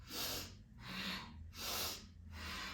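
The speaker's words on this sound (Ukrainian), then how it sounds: "Дихання голосне, уджай" Slow, audible ujjayi breathing through the nose during a morning yoga breathing warm-up: four soft, rhythmic hissing breaths alternating in and out, close and quiet.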